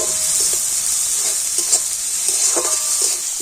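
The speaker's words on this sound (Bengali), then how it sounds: "টমেটো কিন্তু আবার একটু ভালো করে ভেজে নেবো আর টমেটোটা একটু নাড়াচাড়া করে নেবো" Chopped tomatoes sizzle steadily in hot oil in a pan, with soft scraping taps from stirring scattered through the continuous frying hiss; no voices.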